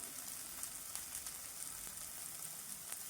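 Tomato frying lightly in a pan, a faint, steady sizzle with small crackles and pops spread evenly throughout, no talking.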